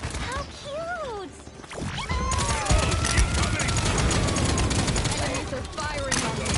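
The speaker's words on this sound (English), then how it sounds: "Enemies are firing on me." Enemy gunfire in Paladins, dense rapid bursts of shots and impacts crackling over several seconds after an early whistling effect, loud and close amid game sounds.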